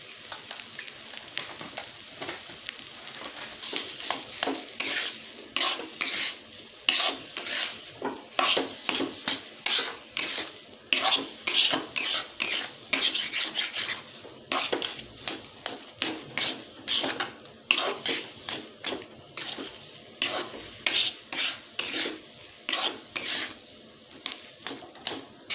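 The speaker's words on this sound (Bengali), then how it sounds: "দেখন্তু আলুরে আমি মশলা কু কষি দেইছু।" Potatoes with spices fried and stirred in a pan for aloo chop, a rapid run of sharp, close scraping and tapping strokes of the spoon against the pan over a light sizzle, fairly loud and rhythmic, without any talking.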